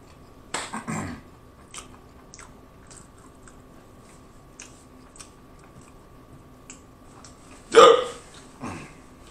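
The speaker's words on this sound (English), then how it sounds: "Oh, I got the hiccups." A woman hiccups loudly twice, close to the mic, with a few faint clicks and small noises in between in an otherwise quiet room.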